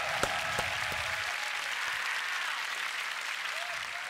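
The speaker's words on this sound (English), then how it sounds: "Can I get a round of applause one more time?" A crowd applauds a beatbox crew at the GBB23 World League crew elimination, a steady roar of clapping with a few sharp claps near the start and faint cheering mixed in.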